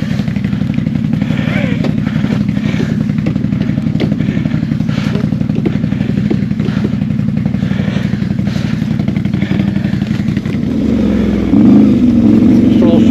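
A motorcycle engine runs steadily on a rutted trail, a loud close drone with clattering and a brief revving rise near the end, while people talk over it.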